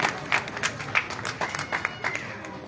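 An audience at a Buddhist monk's public talk in Jammu claps in uneven bursts, the scattered hand claps rising and falling in a loose rhythm over a murmuring crowd.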